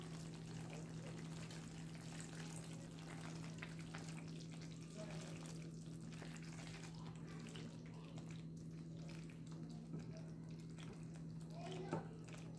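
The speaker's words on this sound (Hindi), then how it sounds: "अब मैंने पानी डाला है थोड़ा सा" Water is poured into cooking gravy for an Afghani paneer dish, a faint, steady trickling and simmering under a low constant hum, quiet throughout.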